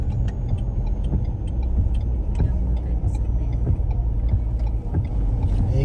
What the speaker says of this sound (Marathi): थोड्या वेळाने इंडिकेटर लावायला लागतोय.